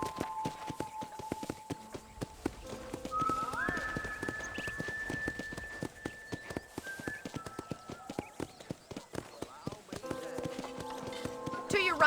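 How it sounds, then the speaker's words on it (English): A steady, moderate clip-clop of horse hooves in Red Dead Redemption continues throughout, with light game music tones and ambient sounds layered over it. "let's see if you can still ride a horse"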